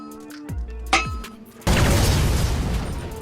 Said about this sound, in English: The Fragmentation grenade is absolutely amazing for clearing out enemies.